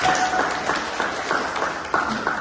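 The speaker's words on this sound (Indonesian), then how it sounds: "beri tepuk tangan" A class of teacher trainees applauds after a group presentation, a moderate wash of many hands clapping at once, even and sustained in a room.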